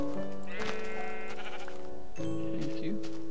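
Sheep bleating in the video game Minecraft, two loud, close, wavering bleats separated by a short pause.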